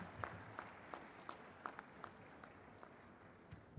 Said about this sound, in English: Big round of applause for our chief guest.